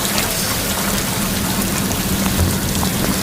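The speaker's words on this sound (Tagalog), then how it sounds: "Lakas ang ulan." Heavy rain pours down in a loud, steady, dense hiss of drops beating on surfaces, unbroken for the whole stretch and heard alone without voices.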